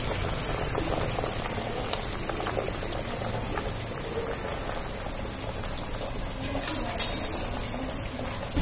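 Rice for biryani boils in a pot, a steady close bubbling and hiss that carries on evenly throughout with a few small pops.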